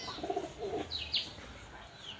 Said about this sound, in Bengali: দেখছ এটা কার কবুতর